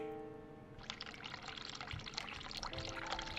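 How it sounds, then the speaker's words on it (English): Hot water running from a tap in a video game, starting after a brief quiet moment and then flowing as a steady, faint gush with no voices. "Run hot water."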